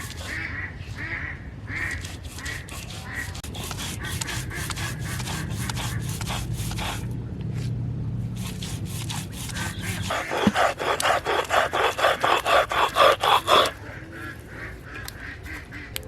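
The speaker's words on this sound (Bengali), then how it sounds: "নারকেলটা বেটে নিচ্ছি। নারকেলটা খুব মিহি করে বেটে নিতে হবে।" Grated coconut is ground by hand into a fine paste, producing repeated rhythmic scraping and rubbing strokes, slower at first, then a louder, quicker burst of strokes before easing off.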